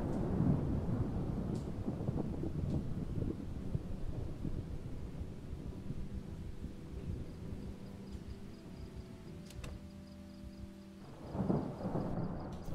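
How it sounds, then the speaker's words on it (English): Thunder rumbles through a storm in the zombie survival game Project Zomboid: a long, low, continuous roll with rain-like hiss, swelling again near the end. "I'm just hearing the thunder."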